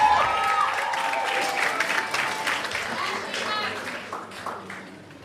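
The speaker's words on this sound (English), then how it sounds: "Come on, cheer them on." An audience at a high school graduation ceremony claps and cheers loudly, sustained applause with scattered shouts and a whoop, slowly tapering off, while voices sound in the crowd.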